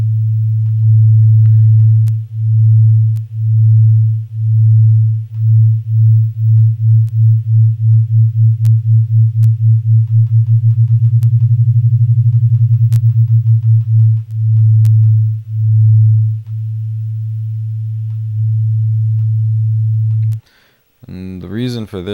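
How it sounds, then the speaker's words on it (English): Two sine tones from the Serum synth ring out loud and close, one holding steady while the other sweeps upward. Their combined hum pulses in beats that speed up and then slow again before cutting off abruptly. "one tone is staying at this frequency and the other is moving up"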